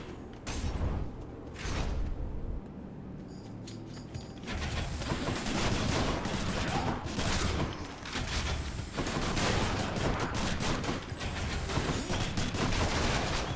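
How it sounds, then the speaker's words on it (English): Rapid bursts of explosions and blasts from the video game Hades, with triple bombs going off in dense, rattling volleys that come in several long waves separated by brief lulls, loud and busy with game effects. "just doing massive damage with triple explosions is satisfying"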